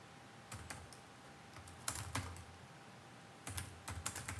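Keystrokes on a computer keyboard come in short clustered bursts with pauses between them, close and fairly quiet, with no talking.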